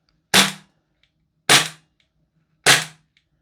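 Three sharp gas blowback shots from a Double Eagle FN 509 airsoft pistol, evenly spaced about a second apart, each a loud crack with a short decay and no talking.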